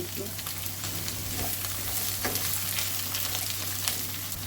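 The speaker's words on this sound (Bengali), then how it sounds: "এই তেলের মধ্যে আমি বেগুনগুলো ভেজে নেব।" Chopped eggplant fries in hot oil with a steady, dense sizzle and crackle, continuous and close throughout, with a low steady hum underneath; no one speaks.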